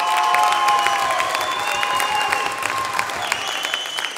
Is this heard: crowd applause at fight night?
yes